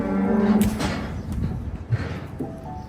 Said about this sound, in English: There's lots of cows being worked with us round about us right now